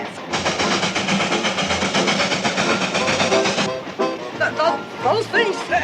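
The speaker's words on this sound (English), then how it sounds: "I thought you had a scheme to keep this old train running." An old steam train runs fast along a rail line, its rumbling, clattering motion steady throughout under close conversation between people on board.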